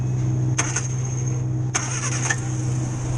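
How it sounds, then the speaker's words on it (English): A 1962 Morris Minor car engine restarting, heard from under the bonnet: a steady low engine hum runs throughout, broken by two short bursts of cranking and starter noise, fairly close and loud. "We'll just do a quick restart from under the bonnet."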